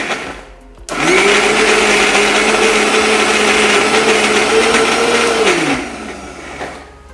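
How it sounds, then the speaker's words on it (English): A blender grinds homemade dog food into a paste, kicking in abruptly and running with a loud steady whir for about five seconds before cutting off and spinning down. "We're not gonna grind it too much."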